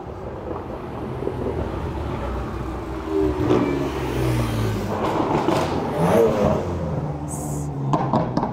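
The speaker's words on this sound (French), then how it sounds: "Ah, M2 compétition." BMW M2 Competition driving past among supercars on a street, its engine rising and revving from a distance to close range over wind noise, with brief talk near the end.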